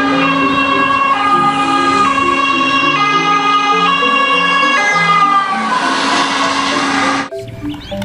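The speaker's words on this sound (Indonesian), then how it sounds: "yang ini ada mobil ambulans" A toy ambulance's loud electronic siren wails in a repeating toy-like melodic pattern, close up, then cuts off abruptly near the end.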